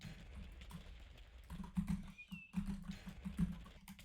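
Rapid, irregular clicking of a computer keyboard during gaming practice, with quiet closely spaced keystrokes and a few brief pauses, fairly soft and close.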